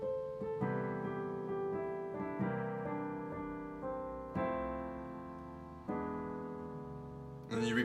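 Right-hand piano part of a song: sustained, mellow chords and notes struck every second or so, ringing into each other with the pedal, soft and close, with no talking.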